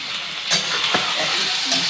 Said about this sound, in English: we are frying the chicken with some garlic